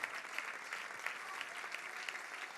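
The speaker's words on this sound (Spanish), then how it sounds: "Dale palmas de alabanza, Señor" A church congregation claps in praise, a steady crowd of hands beating in a loose rhythm with slight regular swells, continuous through the moment and fairly faint.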